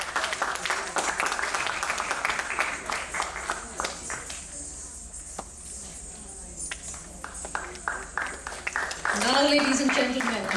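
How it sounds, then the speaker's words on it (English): An audience claps at a Silambam martial arts anniversary performance in Houston, a sustained crowd of applause that thins in the middle and rises again, with a voice speaking over it near the end. "another round of applause for all of you"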